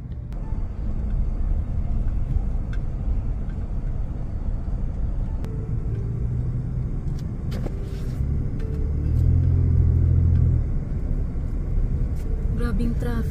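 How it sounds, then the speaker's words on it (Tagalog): Heavy road traffic on the Belt Parkway in New York heading toward the Verrazano Bridge, a continuous low rumble of car engines and tires heard from inside a vehicle, with a louder passing swell near the middle. "Grabing traffic oh, hanggang sa dulo."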